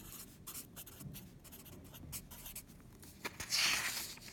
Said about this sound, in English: write the formula.